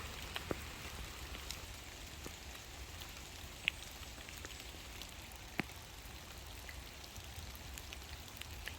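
Steady light rain patters outdoors in an autumn forest, with occasional louder drops plinking nearby against a soft, constant wash.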